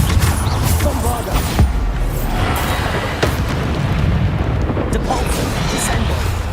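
Spell explosions from combat in the video game Hogwarts Legacy: a dense, loud, continuous rumble of blasts with sharp impacts scattered throughout, and cast sounds layered over one another.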